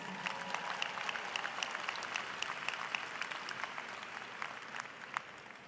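Graduates at a commencement ceremony give a big round of applause, a dense, even patter of many hands heard from a distance and sustained throughout without speech.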